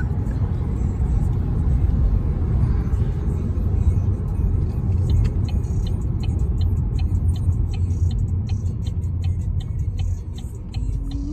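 Car driving on a road on a short trip to Applebee's, heard from inside as a steady low rumble of engine and road noise with faint ticking, no talk.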